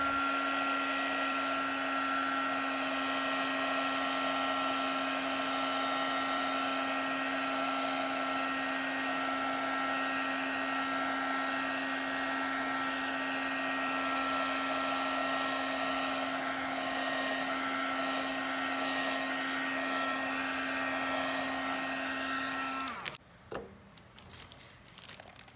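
A heat tool gently fusing a layer of encaustic wax gives a steady, close blowing whine with a constant hum that runs unbroken for over twenty seconds, then cuts off into light handling noise.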